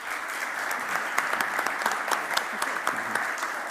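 Audience applause at a deep tech summit in Barcelona, a steady wash of many hands clapping fairly close and loud, continuing throughout with sharper individual claps standing out.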